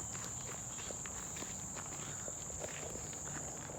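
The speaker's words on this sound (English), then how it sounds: "I hear crickets." Crickets chirp in a steady, high, continuous trill during an outdoor nature walk, with soft footsteps crunching underneath.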